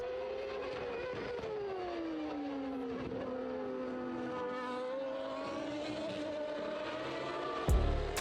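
Michael Schumacher's Formula 1 car at Imola in 1994 nearing the finish, a high engine whine with rising and falling gear-change pitch sweeps held for several seconds, then a short loud burst near the end.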